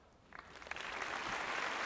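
Studio audience applause starts as a few scattered claps and quickly swells into steady, moderately quiet clapping.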